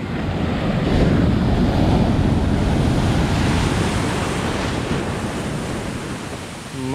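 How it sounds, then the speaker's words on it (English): Large ocean waves roll and crash continuously at a beach in Nagasaki, Japan, a loud, broad roar of surf with wind buffeting the microphone throughout. "My gosh, waves were way too big"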